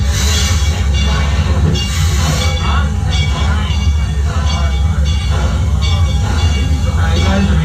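A small Six Flags and Texas Railroad train rumbles steadily along with a loud continuous mechanical drone and rhythmic clacking, with faint voices mixed in.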